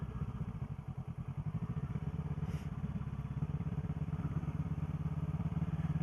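A new motorcycle's engine runs steadily with a low, pulsing rumble throughout, close and fairly even, carrying the rider out for a ride.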